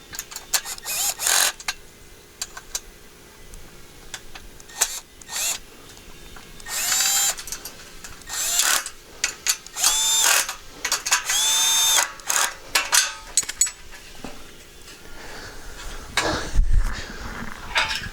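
A hand tool works on 10 mm bolts during assembly of a 6' x 4' greenhouse kit, giving short bursts of ratcheting clicks and metallic clinks separated by pauses, close by and fairly clear.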